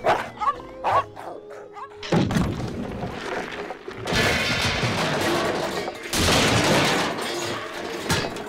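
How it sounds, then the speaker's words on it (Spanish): Dogs bark at night in a noisy cartoon scene, a few sharp yaps first, then loud dense bursts of barking and crashing din that come in long waves, with no talk over them. "De ladridos."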